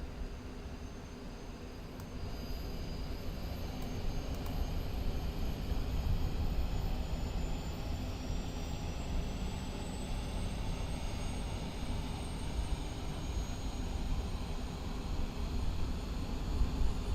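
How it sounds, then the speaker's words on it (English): An Airbus A320 engine in Microsoft Flight Simulator 2020 spools up with a low, steady rumble and a faint high whine rising slowly in pitch, sustained and unbroken throughout. "let's listen to the engine spool up."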